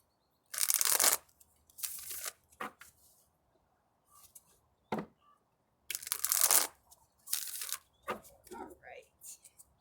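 A deck of cards is shuffled close up in several quick riffling bursts separated by pauses, crisp and fairly quiet, with occasional softer handling noises.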